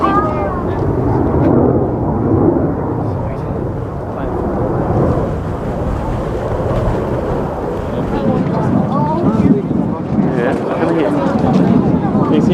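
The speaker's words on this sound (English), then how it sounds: "He's coming towards us. They're just going to fly over the top of us." A loud, rumbling aircraft roar builds and sustains overhead, with wind buffeting the microphone and voices talking beneath the drone.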